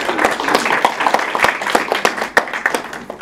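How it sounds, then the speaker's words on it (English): A hustings crowd at Mahfil Ali in Harrow East breaks into a short burst of applause, many hands clapping in a dense, uneven patter at moderate volume, with no talking over it. "So that round of applause was for all the candidates"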